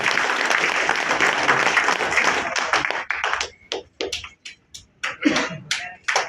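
An audience at an insurance company award ceremony applauds winners, dense clapping for about three seconds that thins into scattered individual claps trailing off.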